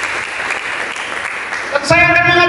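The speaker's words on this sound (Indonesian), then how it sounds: "Mari kita berikan tepuk tangan bagi Yesus" Congregation in a church breaks into steady applause, a dense wash of clapping that swells near the end as music enters.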